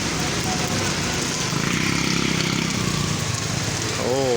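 Heavy rain pours steadily in a Karachi street, a dense continuous hiss that swells slightly louder partway through.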